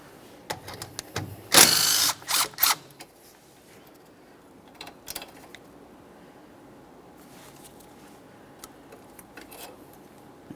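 A ratchet works a 12mm bolt that holds the ABS wire and brake flex hose near the front strut of a 2011-2020 Toyota Sienna: a loud early cluster of clicks and rattles, then sparse, fainter ticks.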